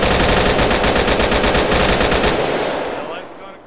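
Rapid automatic gunfire bursts loudly in an Arma 3 military game battle, a sustained rattling stream that stops and fades out with a faint voice underneath.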